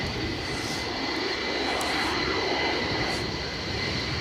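A steady, broadband roar of airliner jet engines at Edinburgh Airport as JetBlue, United and Delta jets taxi, holding level and continuous throughout with no voices.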